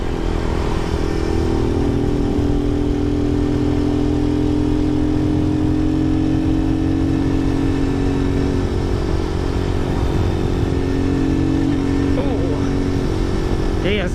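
Lifan motorcycle engine running steadily while being ridden, a continuous mid-pitched drone with a slight clatter, close and loud throughout with only small shifts in revs.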